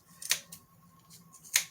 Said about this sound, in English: I don't care how sharp your scissors are, this yarn's really thick.